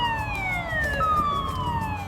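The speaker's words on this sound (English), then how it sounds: "the siren sounded, telling us that the waters were about to be released from the dam" Dam release warning siren on the South Holston River, a steady wailing tone slowly sliding downward, heard from a distance over a rumbling river and outdoor background.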